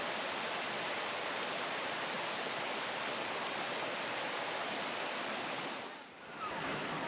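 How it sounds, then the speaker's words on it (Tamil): Steady, close roar of a waterfall beside the Kavunji to Mannavanur route near Kodaikanal, a dense wash of falling water that holds constant throughout with one brief dip near the end. "நாம பார்த்துட்டு இருக்கக்கூடிய இந்த அருவியானது கவுஞ்சியிலிருந்து மன்னவனூர் செல்லக்கூடிய வழித்தடத்தில் இருக்குங்க"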